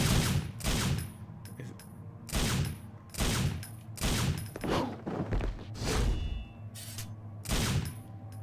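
Gunfire in Devil May Cry 3 comes as repeated sharp bursts of shots, about nine clustered volleys at a fairly steady rhythm, loud and close with brief gaps of quiet between them.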